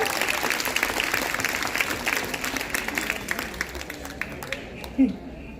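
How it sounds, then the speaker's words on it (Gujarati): Audience at a women's religious gathering claps together in a dense, sustained burst that tapers off near the end, with a few stray voices. "ચલો બે તાળી પાડો."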